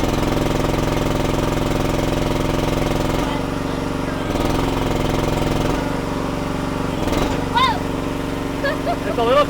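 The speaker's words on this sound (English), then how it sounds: "Now you hear the pumps engage." A Chinese mini excavator's engine runs steadily at close range with its hydraulic pumps engaged, a constant mechanical drone whose load shifts a few times, while a person talks briefly over it near the end.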